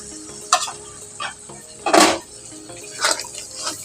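Poppy seed gravy bubbles and sizzles in a pan, with soft stirring scrapes and gentle splutters coming at irregular moments, close and fairly loud.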